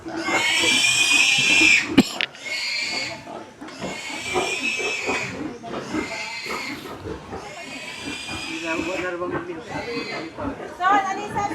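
Pigs loudly squeal in repeated long bursts with grunts between them, being sold as roasting pigs for a fiesta, while people chatter and call out over the noise.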